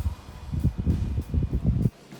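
Breeze blowing outdoors on a warm day, a steady rushing wind buffeting the microphone in uneven gusts, close and fairly loud, with no voices before it suddenly cuts off near the end.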